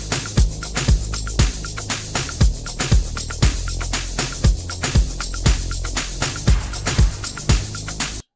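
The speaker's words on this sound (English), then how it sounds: "analog bass number 4, and it sounds like this" Analog bass preset number 4 from the GMS synth in an Afro house production plays a steady rhythmic pattern of punchy low notes with bright percussive ticks on top, loud and continuous with no talking.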